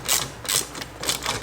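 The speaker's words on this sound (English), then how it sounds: "I thought my ratchet broke." Up close, a ratchet clicks in short rhythmic bursts while nuts are tightened to bolt down a Hybrid Racing B & D series shifter, three quick rounds of mechanical ticking within a second and a half.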